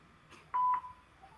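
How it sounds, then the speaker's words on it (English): A voicemail system plays its recording tone: one short, steady electronic beep, clear against a quiet background. "At the tone, please record your message."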